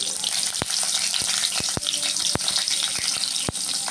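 Dried red chillies and onion frying in hot oil: a loud, close, continuous sizzle broken by several sharp spatula knocks against the pan at irregular intervals, no talking.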